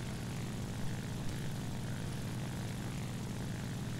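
Propeller aircraft engines, including a Spitfire and an F4U, drone steadily in a World War II era flight combat video game, a continuous low throbbing roar with no talking.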